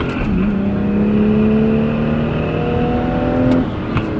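BMW M240i engine pulling hard under acceleration on a rural road among cornfields, a steady rising engine drone with a sustained harmonic whine lasting several seconds before easing off, close and loud with no talk.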